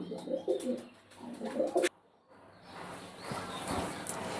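Pigeons of the Teddy kind coo in soft, low, rounded calls. A run of close coos fills the first two seconds, then a short quiet gap follows before fainter noise and murmuring resume.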